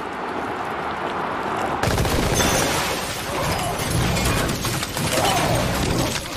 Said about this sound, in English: Sean, Ed, and other Wallace gang members arrive at the Travellers' trailer camp with heavy weaponry and fire indiscriminately on everyone they see